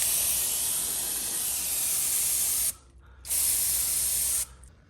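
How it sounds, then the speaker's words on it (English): Brake cleaner hisses from an aerosol can onto the underside of a leaking Honda HS-series snowblower transaxle: two long, loud, close spray bursts separated by a short pause, with no talk. "I'm going to spray the underside of the transaxle with some brake cleaner to clean up all this leaking"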